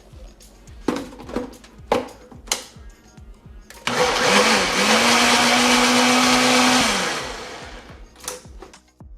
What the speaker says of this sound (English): Then we're going to blend.